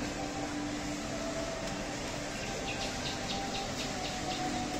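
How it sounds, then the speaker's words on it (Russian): Faint chirping birds in the distance over a steady background hum, a few short repeated calls rising near the end. "Слушайте, как классно птички поют"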